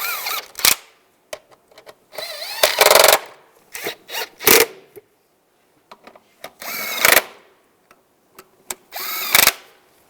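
Power tool driving bolts tight on a 2010-2015 Toyota Prius electric water pump, sharp bursts of whirring and rattling impact in short repeated spurts with silent gaps between, close and loud.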